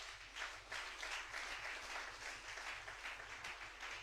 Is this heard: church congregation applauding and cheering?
yes